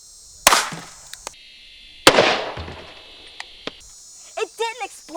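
A tiny miniature gun fires twice at a tiny target from close range, each shot a sharp crack with a short ringing tail, followed by a few small clicks and brief muffled voices at the end.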